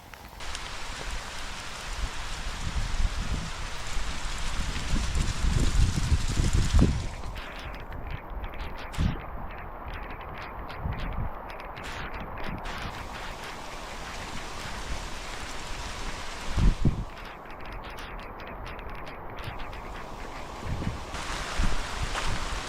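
Rain falling steadily in a forest, a continuous hiss of drops on leaves and ground with occasional louder patter and gusts, heard without speech throughout.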